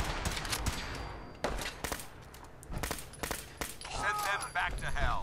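Gunfire in the video game Fallout 4, bursts of rapid shots and single cracks from near combat, with gaps between volleys and some game voice chatter mixed in.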